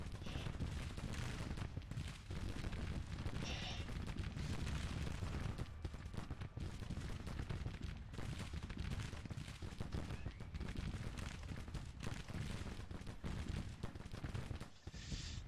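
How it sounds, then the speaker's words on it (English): Dense, continuous gunfire from masses of troops in a Civil War-era video game battle, with 7,000 men against 21,000 Rebels. Volleys and popping shots pile into a loud, unbroken roar with no clear pauses. "Keep firing at them, boys."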